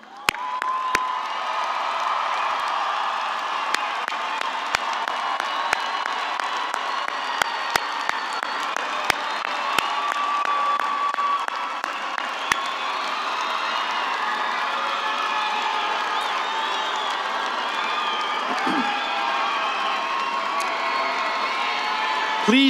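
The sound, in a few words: graduation audience cheering and applauding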